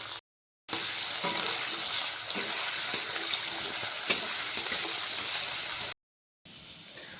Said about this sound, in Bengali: এবার আলুগুলোকে ভালো করে ভেজে নিই